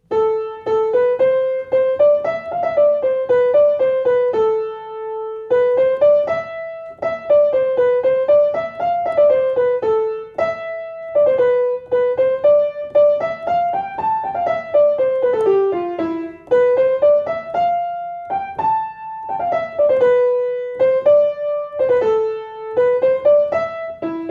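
A single melodic line of a Bach canon plays alone, one clear note at a time in a flowing, repeating pattern, bright and close with no accompaniment.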